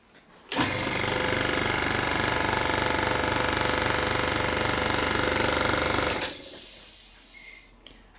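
An HS100 mini air compressor under a pressure test kicks on abruptly and runs loud, with fast rhythmic chugging pulses for about six seconds, then cuts off into a fading, hissing wind-down.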